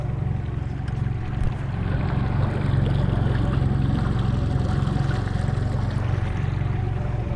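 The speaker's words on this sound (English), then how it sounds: "New motor is going perfect right here." A new boat outboard motor runs steadily with a low, even drone on the Weeki Wachee River in Florida, water swishing faintly alongside it throughout.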